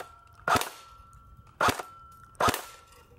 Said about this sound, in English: Shooting straight through the can, it looks like.